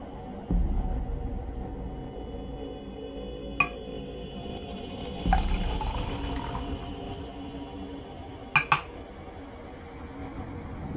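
Water is poured into a glass in a home for a thirsty visitor, a short, soft splash with a few sharp glass clinks before and after, and no talking.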